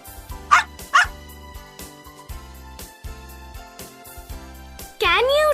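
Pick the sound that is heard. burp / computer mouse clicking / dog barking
dog barking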